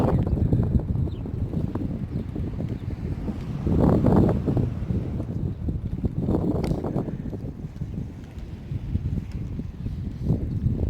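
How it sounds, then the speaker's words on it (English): Gusty wind buffets the microphone outdoors by the ocean with a low, rumbling roar that swells and eases over several seconds. "It's rather windy."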